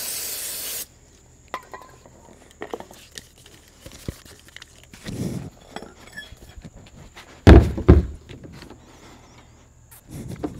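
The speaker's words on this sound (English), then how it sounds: "first we're going to get some of the crud off of here with some brake cleaner" Brake cleaner hisses from an aerosol can onto the fuel pump area of a GM 2.2L Ecotec engine in a Chevy Cavalier or Pontiac Sunfire. There is one loud, short burst at the start, then faint handling clicks and a brief thud later.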